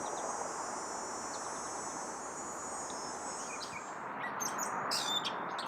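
A gray catbird sings from cedars, its short, varied calls surfacing near the end over a dense, steady insect drone that dominates the outdoor background.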